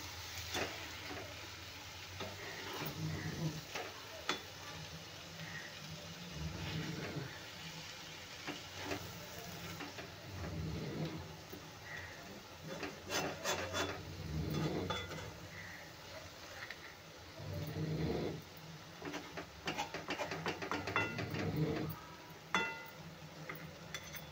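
Egg bhurji being stirred and sautéed in a pan in a home kitchen, with soft sizzling and intermittent scraping and clinking of a utensil against the pan, fairly quiet and close with no talking.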